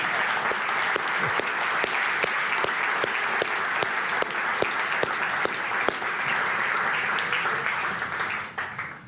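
Sustained audience applause at an afternoon investiture ceremony at Government House, many hands clapping steadily for about nine seconds before fading out at the end.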